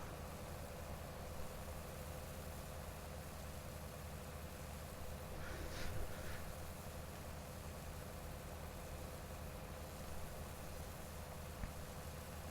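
A tractor engine idling and droning steadily in Farming Simulator 19, a constant low mechanical hum with a brief swell midway, with no talking.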